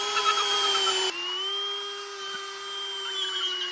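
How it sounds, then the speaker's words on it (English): A power drill runs steadily with a long drill bit boring holes for a 30-panel solar mount, a loud continuous whine that shifts pitch once when the load changes, with no talk. "then I switch to my longer drill bit"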